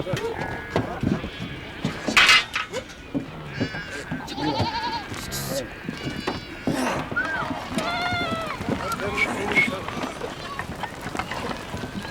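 Goats and sheep of a Kazakh herd in the Altai bleat repeatedly at varying distances, mixed with hoof shuffling and movement of the herd, with people talking over it.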